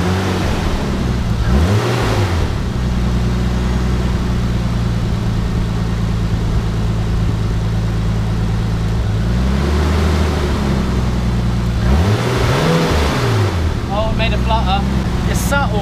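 A Nissan 200SX S13 fitted with a turbocharged RB25DET engine revs in short bursts, rising and falling, over a loud steady idle, with people talking nearby.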